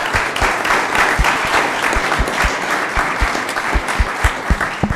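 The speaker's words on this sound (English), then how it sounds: "Let's give her another round of applause." A room of people applauds at a city council meeting, loud continuous clapping with distinct individual claps standing out throughout, close and steady for the whole stretch.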